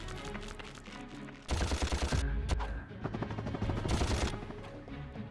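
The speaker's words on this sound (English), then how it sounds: "Need to use the blaster again for this part." Rapid blaster gunfire in the Ratchet and Clank video game, loud bursts of repeated shots in quick succession with brief pauses between volleys.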